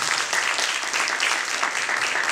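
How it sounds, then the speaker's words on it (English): A brief, steady burst of audience clapping greets Rabbi Bob Kaplan at a panel discussion on gentrification and displacement. It is dense and even from start to finish. "Can we give a round of applause for Rabbi Bob Kaplan?"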